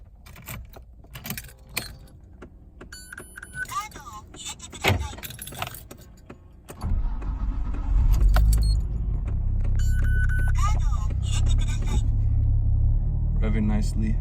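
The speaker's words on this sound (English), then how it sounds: "Now let's give the engine a start." Keys jangle and click in the ignition of a 1995 Nissan Skyline R33 GTR, then the engine cranks and fires into a loud, close, steady low rumble that settles into idle.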